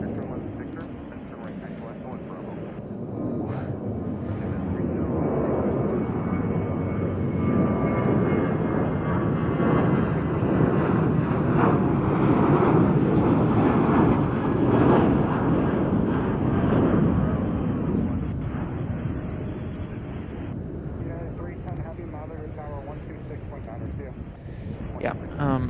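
An Air France airliner at Chicago O'Hare airport rolls along a taxiway, a broad jet-engine roar that swells to a peak mid-clip and then gradually recedes, heard from a fair distance.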